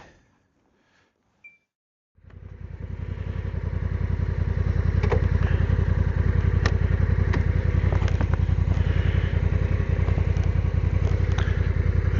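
A Honda NT1100 DCT motorcycle starts after a moment of near silence, then settles into a steady, loud, close engine rumble with a rapid pulsing beat that carries on throughout.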